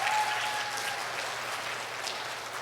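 An audience at a school graduation ceremony in Daegu applauds after a taekwondo dance performance, broad even clapping sustained throughout, loud and close with a faint tone at the start.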